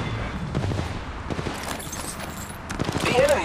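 Enemy gunfire crackles in the Apex Legends Mobile battle royale game: repeated rapid shots and bursts at mid distance, layered with game effects and a rising rumble near the end.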